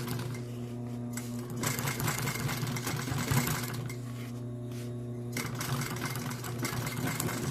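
A sewing machine runs steadily while stitching along fabric edges, a close, continuous mechanical whir with a rapid needle rhythm that varies slightly in pace throughout.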